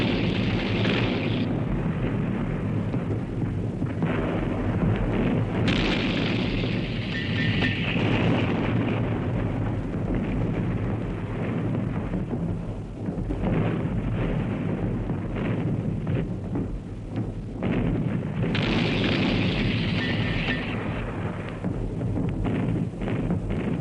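A First World War artillery bombardment falling on Italian trenches, dugouts and shelters in the mountains: a loud, unbroken roar of overlapping explosions and deep rumbling booms that keeps up throughout with no pause.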